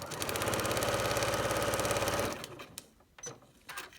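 Sewing machine stitching a log cabin paper-pieced quilt block, a steady rapid close whirring run for about two seconds, then stopping, followed by a few light handling clicks.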